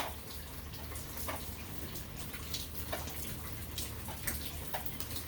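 Rain falls outdoors during an unboxing, a steady fine patter of drops with occasional louder splashes, quiet and even throughout.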